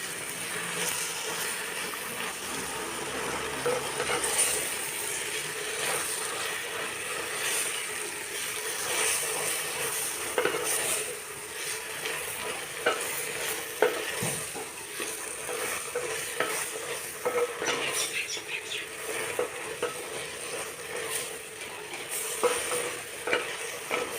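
Ivy gourd leaves wilting in a hot pan for a tamarind kuzhambu, a faint, steady hiss and crackle with occasional soft stirring scrapes, continuing evenly throughout without talk.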